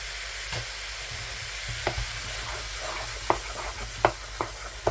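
Beef cassoulet simmering in a pot as tomato puree is stirred in, a steady low bubbling hiss broken by several sharp scraping knocks of the spoon against the pot, with no talking.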